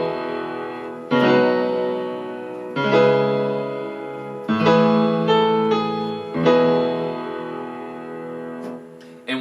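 Piano plays five big sustained chords, each struck once and left to ring and slowly decay before the next change, alone with no voices.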